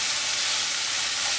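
Steady, even sizzle of grated bottle gourd (lauki) sautéing in a hot pan for kheer, a continuous bright frying hiss with no pauses or voices.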